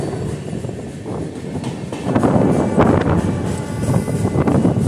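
The Udhyog Nagri Express, train 12174, rolls slowly through Rani Kamlapati railway station in India, a loud continuous rumble of carriages with rattling clatter and wind buffeting, growing heavier after the first couple of seconds.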